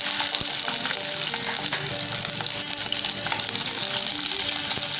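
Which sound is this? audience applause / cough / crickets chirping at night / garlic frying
garlic frying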